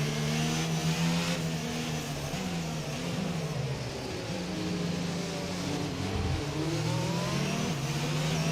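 F1 race cars in a racing video game at Singapore run under the safety car, a loud continuous engine drone whose pitch rises and falls as the cars accelerate and lift, with no talk over it.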